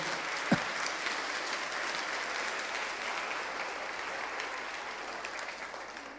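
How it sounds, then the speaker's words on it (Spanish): A church congregation applauds during a Spanish-language sermon, a steady wash of clapping held at an even level across the whole stretch, moderately distant with one sharp knock near the start. "Dale un aplauso a Jesús por ello"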